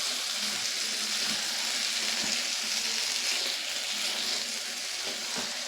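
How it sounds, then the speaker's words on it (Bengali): Pieces of desi chicken sauté in hot oil in a pan, giving off a steady, close sizzling hiss throughout, with no voices. "চিকেনটা দিয়ে ভালো করে কষিয়ে নিতে হবে।"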